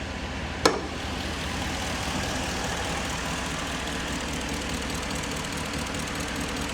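A 2019 Ram 1500 truck engine idles steadily with a faint, rapid ticking from the exhaust manifold running through its low rumble, after one sharp click near the start.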